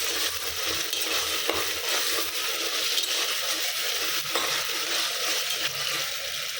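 Ingredients for ghee rice sizzle in a hot pan while being stirred, a continuous loud frying hiss with scraping stirs, no talk.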